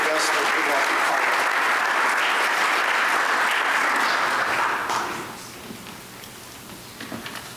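Audience applause for a scholarship student at a high school scholarship night, a dense steady clapping crowd that fills the room for about five seconds, then fades to scattered claps and murmur.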